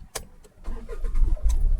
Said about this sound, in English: so I started the car